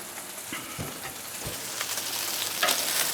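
Bacon sizzling steadily on an outdoor griddle, a continuous close crackle and hiss with scattered pops that grows slightly louder toward the end, no talking.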